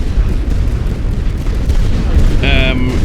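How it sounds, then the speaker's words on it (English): Artillery barrage explosions in The Great War: Western Front video game, a loud continuous rumble of booms and blasts, with a brief tonal game sound near the end. "So I've just gone nuts on the artillery."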